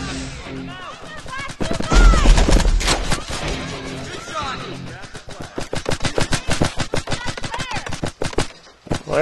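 Paintball markers firing in the video game Greg Hastings Paintball 2, rapid bursts of popping shots in quick rhythmic strings, loud and close, with a player's voice talking over the action.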